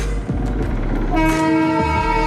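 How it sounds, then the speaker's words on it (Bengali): Darjeeling toy train on the Hill Cart Road, its horn sounding loud and sustained in the second half over rumbling rail and engine noise, close by. "ও ওই দেখ টয় ট্রেন।"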